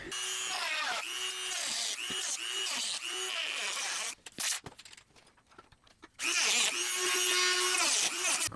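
A power tool cuts into the sheet-metal body panel of a BMW E30, screeching loudly in long bursts, then a quieter stretch of scraping and knocking before the harsh cutting whine resumes up close.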